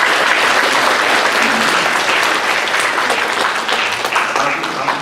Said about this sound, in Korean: 감사의 박수 한번 할까요?